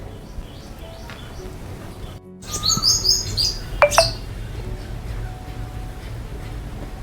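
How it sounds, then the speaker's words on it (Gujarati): A koel calls outdoors on a clear morning, with a few sharp, rising whistled notes in a short burst mid-clip, fairly near, among other bird chirps over steady background hum. "કોયલ બોલે સંભળાય"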